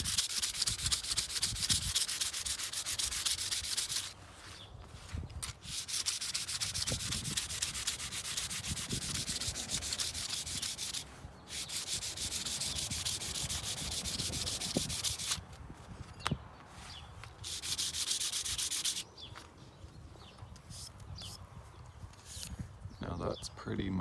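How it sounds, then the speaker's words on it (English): 180 grit sandpaper scuffs across painted glass on a stained glass window to give a frosted look, producing a continuous close, hissy rubbing that breaks off briefly a few times. "give it a little scuff with 180 grit sandpaper"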